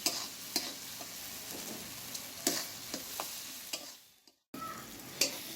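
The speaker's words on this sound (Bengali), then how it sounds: "তারপরে আমি এঁচড়টা দেবো আর আলুটা দিয়ে ফের কষাবো" Raw jackfruit and potato stirred into a tomato spice masala in a pan, a low sizzle under repeated sharp scrapes and knocks of a spoon, with a brief silent gap near the end.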